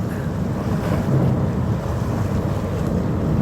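Steady wind rushing past the microphone on a moving ferry at sea, with a broad, constant roar and the wash of water underneath, loud and unbroken throughout.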